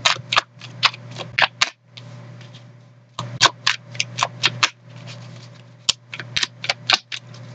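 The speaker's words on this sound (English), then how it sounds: "couple more shuffles here, Virgos" Tarot cards shuffled close by in two runs of crisp, rapid riffling bursts separated by a short pause, with a steady low hum underneath.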